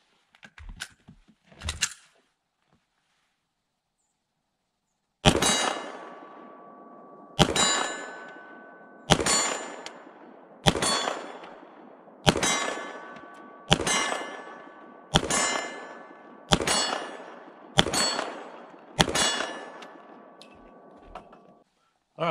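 Pistol shots from a Springfield Armory Echelon ring a steel plate at 25 yards: about ten sharp metallic clangs follow one another at steady intervals of roughly a second and a half, each with a bright ringing tail. Two quick earlier shots come before a pause.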